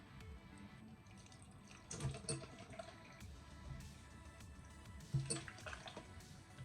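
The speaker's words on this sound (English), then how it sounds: "Add a little bit of water." Faint trickling and splashing of water being poured into a blender with onion, with a couple of soft clunks, quiet and close.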